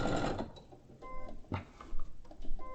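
A sewing machine runs in quick bursts as it stitches a hem, with a steady mechanical whirr that pauses and restarts several times, close and fairly loud.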